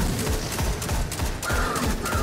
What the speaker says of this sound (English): I'm going to use the new edition of Legendary called the Medi Mini Tool. Fast fire rate gun.